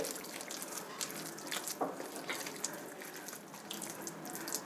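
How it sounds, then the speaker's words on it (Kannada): Water pours in a thin, steady trickle into leftover-rice uttapam batter with soft splashes and drips, close by, without any talking. "ಈಗ ನೀರು ಹಾಕ್ಕೊಳ್ಳೋಣ"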